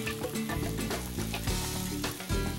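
Diced tomato stirred into pesto sauce sits at a light simmer in a pan, a soft continuous sizzle and bubble heard fairly quietly with no talking.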